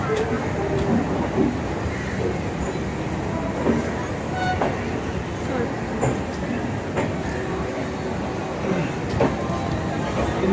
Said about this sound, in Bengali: আমাদের ট্রেন এখন ছেড়ে দিয়েছে হাওড়া স্টেশন থেকে পাক্কা 3টের সময়